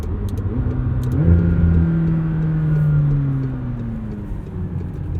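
A 2021 McLaren 720S Coupe engine pulls hard while driving, a loud, steady drone with its pitch climbing under acceleration and then easing off, with no talking over it.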